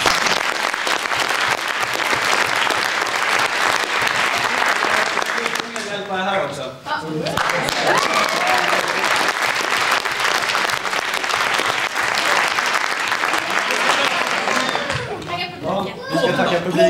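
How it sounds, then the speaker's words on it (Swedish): An audience at a 1999 school reunion gathering breaks into warm applause, a loud sustained clapping that fills the room, while a voice speaks briefly partway through. "En varm applåd för honom."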